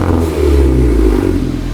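A VW Polo with a cold air intake and stage 2 tune revs briefly at part throttle, a loud close engine roar with a deep, slightly raspy tone and no talking.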